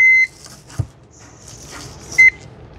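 Beeps from a handheld scanner reading a phone box at a smartphone stock sale, two short electronic tones near the start and end with quieter handling sounds between.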